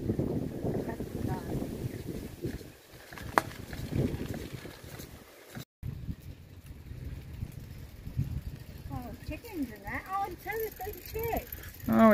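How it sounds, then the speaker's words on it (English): Gusty wind buffets the microphone outdoors on the Greek island of Kos, a loud rumbling roar that swells and dips throughout, with people talking over it and faint bird chirps late on. "It's a little bit windy"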